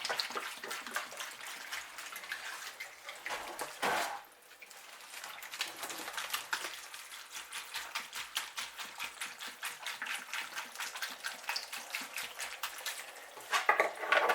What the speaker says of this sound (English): find a place I can just insert water. So give it a good flush.